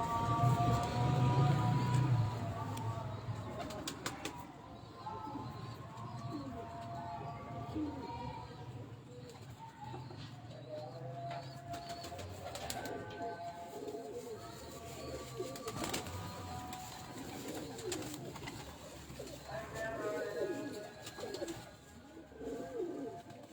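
Soft, repeated cooing of pigeons nearby, with people talking quietly over it and occasional rustles and knocks.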